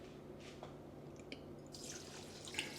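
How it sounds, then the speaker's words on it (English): Water poured from a tap for rice meal prep makes a quiet, soft trickle with faint drips and splashes building toward the end. "what I do is I add the water"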